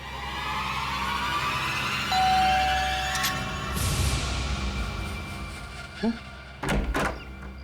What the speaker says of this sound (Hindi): दरवाजा खोलने में इतना वक्त क्यों लगा?